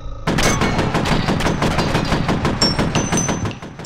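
Loud rapid gunfire in the shooter game F.E.A.R., a fast continuous string of close shots with sharp impacts and a few metallic rings toward the end.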